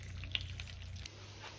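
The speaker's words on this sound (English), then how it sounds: "So after about 5 minutes, 6 minutes of frying." Meatballs fry in a pan for a Teramo-style spaghetti alla chitarra, a faint, steady sizzle and crackle with small pops over a low hum.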